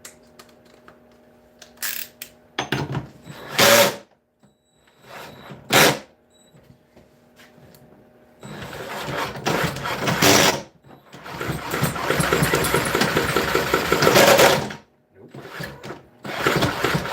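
A weak, nearly dead drill is used to try starting an engine, whirring in several short bursts and a few longer strained runs separated by pauses, fairly close and loud.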